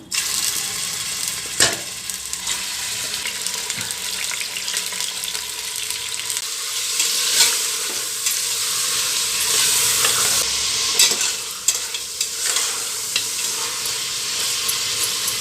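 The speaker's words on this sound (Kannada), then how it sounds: "ಎಣ್ಣೆ ಕಾದಿದೆ ಇವಾಗ ಮಟನ್ ಸೇರಿಸ್ತೀನಿ" Washed mutton pieces fry in hot oil inside a pressure cooker, giving a steady loud sizzle throughout, with scraping stir strokes and a few sharper clatters of the spoon against the pot.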